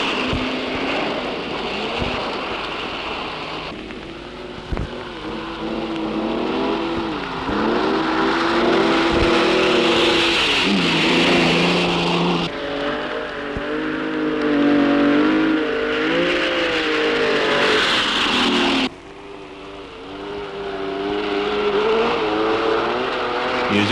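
1973 Southern Cross International Rally cars on slippery roads, engines revving and rising and falling in pitch through several gear changes, with brief cuts between cars.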